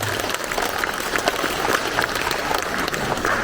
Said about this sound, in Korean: 아무리 기다려도 박수 한번 더 쳐보실래요?